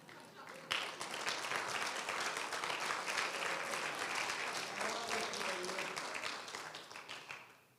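A church congregation claps rapidly in a steady, dense wash of applause lasting several seconds, with voices murmuring underneath.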